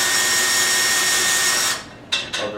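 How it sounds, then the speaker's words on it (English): A cordless drill backs bolts out of a sling rail on a frame, a steady whirring drone running for nearly two seconds before cutting off, followed by two short bursts of the motor. "Next up, you're going to take your drill,"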